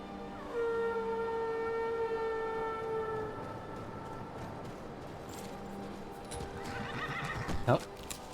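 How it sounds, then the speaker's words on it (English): A horse whinnies loudly with a long falling neigh in the video game The Elder Scrolls V: Skyrim, followed by clip-clopping hooves and busy game-like ambience, ending with a sharp rush of sound. "Go ahead and call the horse back."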